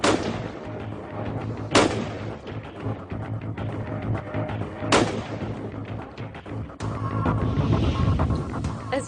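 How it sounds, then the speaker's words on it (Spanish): A short-barrelled firearm is fired at a watermelon, several sharp loud blasts spaced a couple of seconds apart, each with a rumbling tail over steady background noise. "Primero, un arma más corta, en la que el disparo se abre inmediatamente después de salir del cañón"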